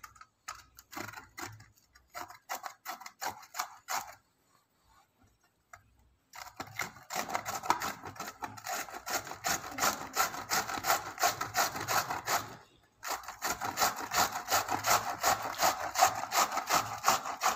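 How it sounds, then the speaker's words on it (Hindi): A carrot rubbed quickly against a flat hand grater for halwa, a loud, rhythmic scratchy rasp of rapid close strokes in several bursts separated by brief pauses. "हमने कैरेट को भी कद्दूकस कर लिया है"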